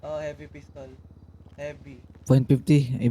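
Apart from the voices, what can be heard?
None of the usual background noises is heard.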